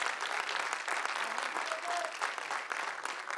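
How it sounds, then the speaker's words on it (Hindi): Audience at an idol singing contest finale applauding a contestant, a thick, continuous roar of clapping from a large crowd, steady and fairly loud from start to finish. "जोरदार तालियां राज के लिए"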